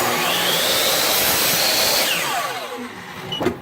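A chop saw with a laser sight cuts outdoors in cold weather, giving a loud, steady motor whine and cutting roar up close that then winds down as the blade spins to a stop.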